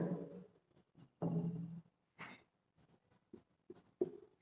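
Chalk or marker writing on a board during a classroom lecture, a series of short scratchy strokes and taps in irregular bursts, close and fairly quiet.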